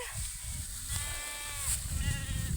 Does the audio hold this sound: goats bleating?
yes